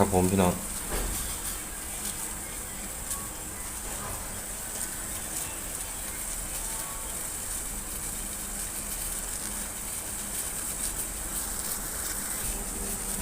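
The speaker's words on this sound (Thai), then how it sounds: "น้ำกำลังเดือด" A steady, even hiss and bubbling roll of water boiling in a pot for blanching meat, continuous throughout, with a brief clatter at the very start.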